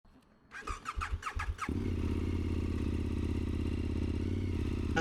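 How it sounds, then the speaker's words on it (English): A motorcycle being warmed up before an oil change: several sharp bursts of cranking or revving, then the engine catches and settles into a loud, steady, close idle that runs on without speech. "I need to go and warm this bike up because I need to change my oil."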